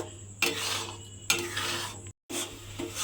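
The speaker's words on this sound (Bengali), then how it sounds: "কাঁঠালটা দিয়ে এইভাবে একটু সময় নিয়ে নেড়ে নেড়ে কিন্তু এরকম একটু ঘন করে নিতে হবে" Jackfruit paste being stirred slowly in a pan, with scraping, rasping strokes that come close and clear, separated by a brief pause, and no talking.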